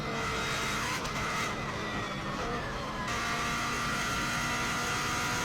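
A Subaru Impreza race car on the Isle of Man course roars at full throttle throughout, a loud, dense engine and road noise with a brief shift in tone midway and no voices.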